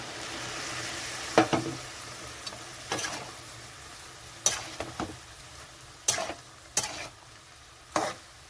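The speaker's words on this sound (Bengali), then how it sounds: "এখানে আমি ভিজিয়ে রাখা সর্ষে পাউডার জলটা দিয়ে দিচ্ছি" Mustard powder soaked in water goes into a sizzling pan of Malabar spinach and mussel chorchori, with a steady fry hiss and repeated sharp scraping stirs at irregular intervals, close and clear.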